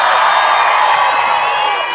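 An audience at the DanceRites First Nations dance competition finals cheers loudly and steadily, a dense, close wash of whooping voices and applause holding for the whole stretch.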